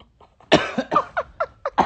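A person coughs in a harsh, close fit of five or six rapid bursts, loud and near, with no talking.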